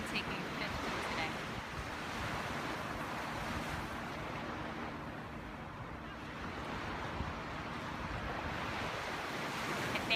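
Ocean surf rolls continuously by the shore in a broad, steady wash of noise, with some wind buffeting the microphone and no distinct voices.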